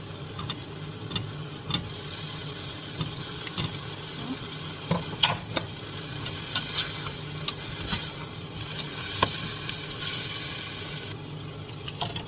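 Yellow mushrooms stir-fry in a pan for a spaghetti sauce, giving a continuous close sizzle broken by light scraping and clicking stirs, with no voices.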